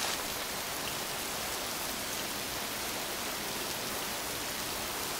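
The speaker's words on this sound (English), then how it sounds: "the audience is only able to hear the sound of rain" Constant, even rainfall hisses across the whole stretch, a dense wash of drops with no voices or other sounds.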